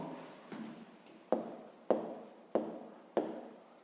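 Pen writing numbers on paper during a fifth-grade maths exercise, with several distinct scratchy strokes in a steady rhythm, close and fairly quiet, no talking.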